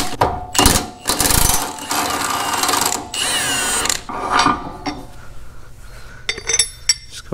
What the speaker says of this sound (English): put the vice grips on the nut, and then the impact on the bolt